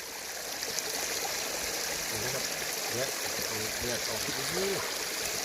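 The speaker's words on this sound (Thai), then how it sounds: "น้ำไหลตลอด" Forest stream water flowing steadily in a continuous hiss and trickle, with someone talking faintly over it partway through.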